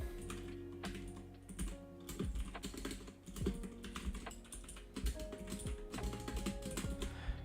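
Computer keyboard typing in a burst of quick, irregular keystrokes while coding a C++ music program, close and fairly soft, heard over a steady background of music with no talk.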